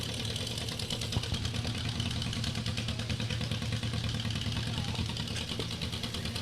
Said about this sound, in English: It's a 1953 John Deere 40T.